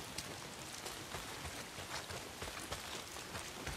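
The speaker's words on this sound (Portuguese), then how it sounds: "chovendo, hein?" Rain falls steadily in the zombie video game Days Gone, a dense, even hiss of drops on surfaces that holds at a soft level throughout, with no talk.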